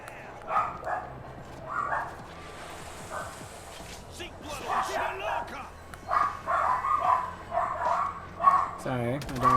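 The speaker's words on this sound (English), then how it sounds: "my dogs are going to be very loud for the next couple minutes" Several excited pet dogs bark loudly at family arriving home, in irregular bursts of yips and barks that grow more frequent, alongside a person talking.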